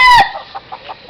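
A rooster or chicken with sparse, molting tail and wing feathers gives one loud close call at the start, then a run of soft, short clucks at a steady pace.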